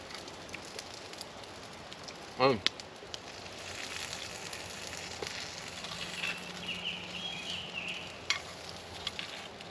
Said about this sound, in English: This is still sizzling.